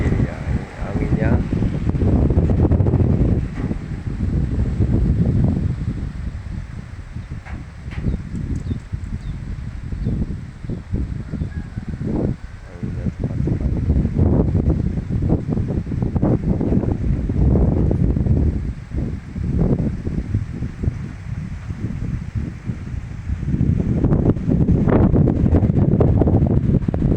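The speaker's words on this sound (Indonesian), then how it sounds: "Ini anginnya sangat tinggi ya, ini anginnya." Strong wind blowing hard against a house roof, buffeting the microphone in loud surging gusts, with a voice talking over it at times.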